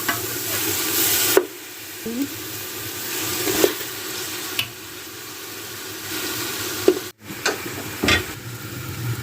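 Masala for beef paya roasts in a pot with a steady sizzle, broken by occasional scrapes and knocks of stirring and one brief dropout in the sound.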